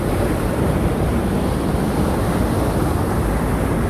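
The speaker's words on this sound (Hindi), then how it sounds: "पानी बहुत ज़्यादा आ रहा है, इतना पानी मैंने पहली बार देखा है यहाँ पर सनोटा के अंदर।" Heavy water of the Upper Ganga Canal at Sanota, Bulandshahr, rushing in a dense, steady roar close to the microphone, with wind buffeting mixed in and no voices.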